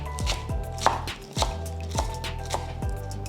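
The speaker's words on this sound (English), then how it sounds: "So I want to give it a coarse chop like this." Knife blade chopping fresh basil and parsley on a cutting board, a coarse chop of about eight quick, crisp strokes in an uneven rhythm, close and clear with no talk.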